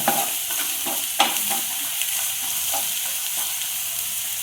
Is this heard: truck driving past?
no